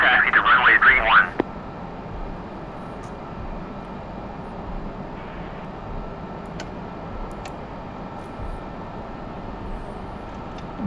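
A Mirage 2000C jet taxis to the runway in the DCS World flight simulator, its engine a steady low rumble throughout, with a short voice at the very start.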